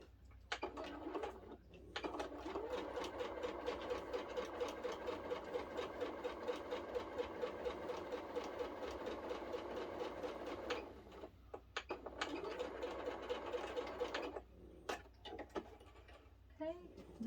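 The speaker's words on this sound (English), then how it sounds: "all we are going to do is sew directly down that center line" Sewing machine running a steady stitch straight down the center line of a quilt block, a continuous rapid whir with brief pauses near the start and around twelve seconds, mid-distance with faint background hum.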